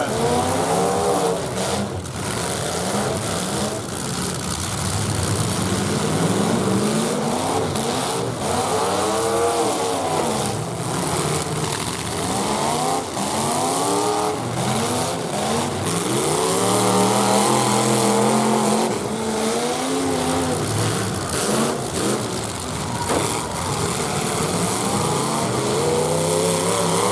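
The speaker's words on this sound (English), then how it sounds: "Get out there and mix it up, fellas." Full-size cars race at the Sibley Slam, their engines roaring and revving loudly as several cars overlap, rising and falling nonstop throughout.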